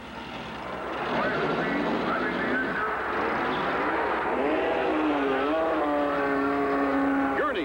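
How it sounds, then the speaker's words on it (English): Dan Gurney's race car blasts back onto the track at the 1969 Indianapolis 500, a loud roaring engine whose pitch climbs steadily as it accelerates away. "Gurney blasts back into the race."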